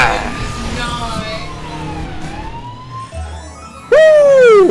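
Police car siren in the LEGO 2K Drive video game: a gliding, wailing tone rising and falling under talk and game sounds, then a loud, bright siren sweep bursting in close near the end.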